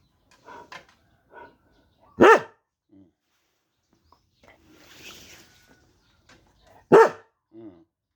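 A dog barks twice, loud and close, a few seconds apart, with quiet sounds and brief soft voices between the barks in a calm indoor setting.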